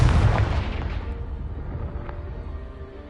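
A Confringo fire spell explodes in the Hogwarts Legacy video game, a loud deep boom that hits at once and then rumbles and decays over about three seconds, with no voice over it.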